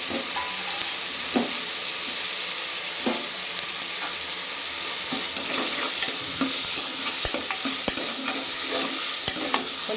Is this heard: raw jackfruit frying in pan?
yes